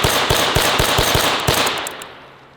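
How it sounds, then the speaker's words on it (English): A replica Sterling submachine gun fires a rapid burst of about eight loud, close cracks, then the shots ring out and fade. "I wonder if you can shoot it."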